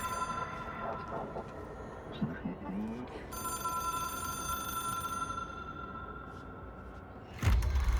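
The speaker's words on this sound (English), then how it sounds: "I can hear the phone." A telephone in the video game Control rings with a sustained, metallic tone over a low ambient rumble, and a heavy thud lands near the end.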